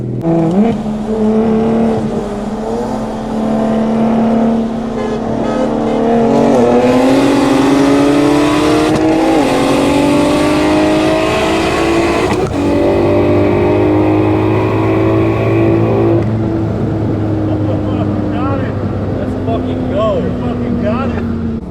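A big-turbo BMW 135i and a G82 M4 accelerate hard in a street race, with loud rising engine drone climbing through gears, shifting at a few points, then settling into a steady lower roar as people talk in the car.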